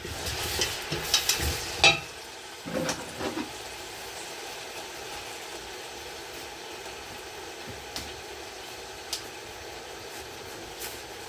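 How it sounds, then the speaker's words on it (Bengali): Quiet steady frying hiss in a pan, with a few clinks and scrapes of stirring near the start, then mostly sizzling alone. "যেটাই হোক এটা আমি একটু ভাজবো, ভাজা হোক।"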